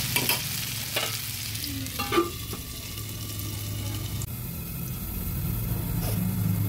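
Potato pieces fry in a pan for a banana-flower curry while a spatula stirs them. Close scraping strokes come in the first few seconds over a steady low sizzle, and the sizzle carries on alone afterward.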